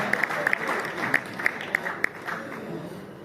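An audience at a Hindi satirical poetry recital by the poet Sampat Saral applauds, a steady wash of clapping with a few louder claps standing out near the front.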